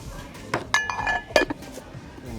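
A set of ceramic cups, one black and one white, is handled on a shop shelf and knocks together in a few sharp, ringing clinks spread over two seconds.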